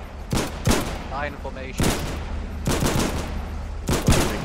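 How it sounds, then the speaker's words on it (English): Gunfire during a beach landing attack in the war game Foxhole: bursts of close, loud shots in several clusters, with a voice talking over part of it. "You're firing at me"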